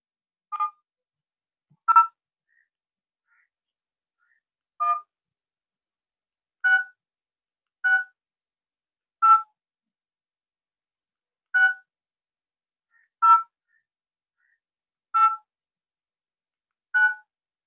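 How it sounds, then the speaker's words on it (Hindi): Mobile phone keypad tones as a number is dialed, about ten separate beeps spaced irregularly over several seconds, clear and close against silence. "फोन लगा रहे हैं अभी ये"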